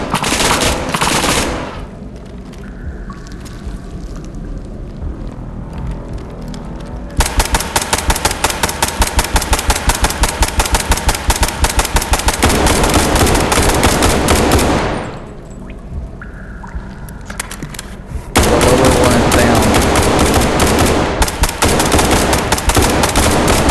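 Rapid automatic gunfire from a team raid in the shooter game SCP: 5K, with long sustained bursts that cut out twice and then resume, loud and close, with no talking.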